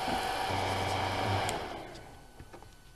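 A hair dryer blows steadily on a watercolor painting, loud and near, then winds down and cuts off about halfway through, leaving faint room noise.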